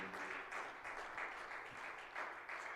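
A church congregation applauds the Lord, with steady clapping from many hands, faint and somewhat distant.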